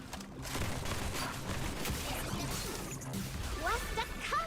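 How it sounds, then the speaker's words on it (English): Video game shotgun blasts and crashing impacts fill a dense, busy mix of battle noise, with a voice talking over it. "Is that a shotgun?"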